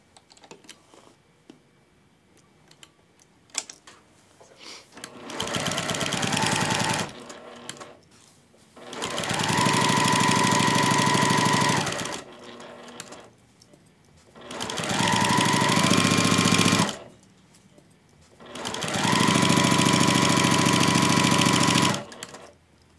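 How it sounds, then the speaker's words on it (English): A sewing machine with a walking foot runs the final stitch on a quilt binding. It whirs in four loud, close bursts of a few seconds each, with short quiet pauses between them. "going to go to the sewing machine and run our last stitch"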